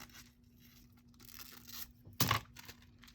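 Junk mail paper being cut or torn, one brief, close ripping tear standing out from quiet handling noises.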